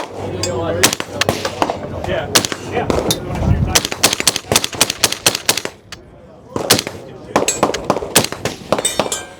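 Suppressed rifle shots at the SHOT Show firearms trade event, a fast string of loud sharp cracks in quick succession with brief pauses, outdoor range ambience between shots.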